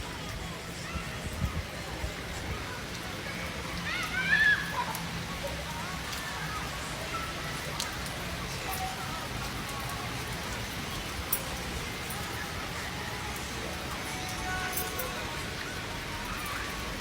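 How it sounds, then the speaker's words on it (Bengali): Heavy rain pouring at a seaside spa and resort near a swimming pool: a constant, dense hiss of falling water and splatter on surfaces, unbroken throughout and fairly close. "অনেক বৃষ্টি পড়তেছে"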